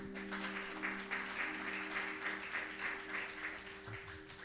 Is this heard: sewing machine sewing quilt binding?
no